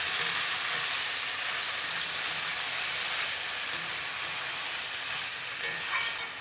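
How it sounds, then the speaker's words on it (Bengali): A vegetarian vegetable curry sizzles in a pan while being stirred, a steady close frying hiss with faint scraping and a brief louder rustle near the end, no voices heard. "এবারে আমি একটু খুলে দেখব নাড়তে হবে এই যে এইভাবে এরকম"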